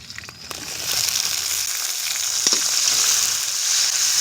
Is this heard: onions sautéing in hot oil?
yes